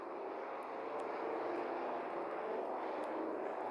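Four-engine propeller airplane with Wright Cyclone radial engines, a steady droning engine hum held at moderate distance, even and continuous with no voices.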